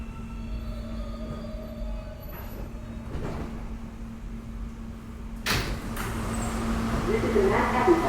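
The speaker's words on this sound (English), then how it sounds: "This is a Manhattan-bound F local train." A New York subway R160A F local train rumbles along the tracks with a steady hum and a few clanks and thumps, growing louder near the end, while a recorded announcement plays over it.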